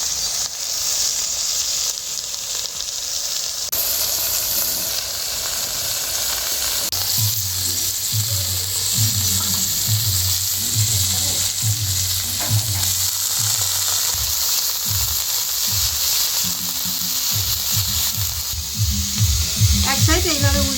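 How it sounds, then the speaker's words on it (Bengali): Small fish wrapped in gourd leaves frying over very low heat in a little oil in a pan, a continuous bright sizzle with bubbling crackles, with a spoken voice and occasional clatter underneath. "অল্প একটু তেল দিয়ে দিয়েছি, আর এটা খুব হালকা আঁচে ভাজতে হবে"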